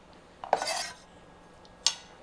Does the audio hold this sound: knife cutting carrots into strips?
yes